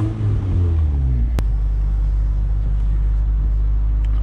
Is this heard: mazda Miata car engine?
yes